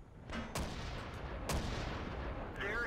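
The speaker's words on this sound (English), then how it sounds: "You can also hear that the gun sound effects seem to be tweaked." Tank guns fire in the video game World of Tanks: two sharp, heavy cannon booms with rumbling tails, followed by a brief whining effect near the end, loud and close.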